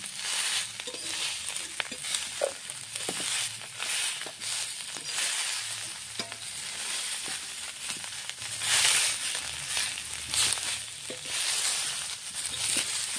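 Potatoes and soybean chunks fry with turmeric in a pan, a soft continuous sizzle broken by scraping stirs and occasional clicks of the utensil.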